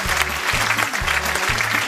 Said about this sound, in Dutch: een applaus voor Borat, die levende kanonskogel